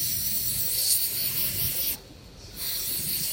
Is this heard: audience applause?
no